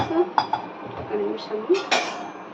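A spoon works a chonga rotte mixture in a bowl, making bright clinks and scrapes against the dish in a quick uneven rhythm, close by.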